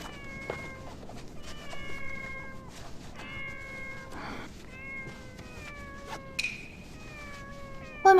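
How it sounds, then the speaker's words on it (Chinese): Several stray cats meow outdoors in overlapping, drawn-out cries, some near and some farther off, repeating irregularly over a low background hum. "外面怎么会这么多野猫叫啊？"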